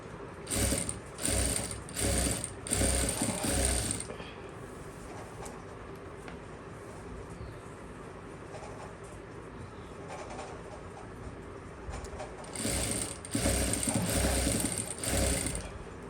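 A sewing machine stitches lace onto fabric, running in bursts of rapid mechanical clatter at the start and end with a quieter pause between.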